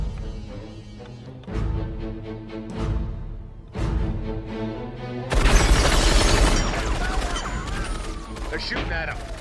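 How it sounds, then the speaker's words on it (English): Gunfire and explosions in a dramatic film scene, a dense and loud barrage of shots and booms that builds into a continuous roaring burst, with voices faintly mixed in. "They're shooting at him. It's panic fire."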